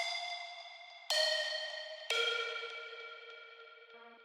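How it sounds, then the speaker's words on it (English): A bright plucked synth sample played as a short melody in Ableton, drenched in reverb: three distinct struck notes with shimmering harmonics, each ringing out in a long decaying tail, ending with a brief low blip. "only the plug reverb sounds like this"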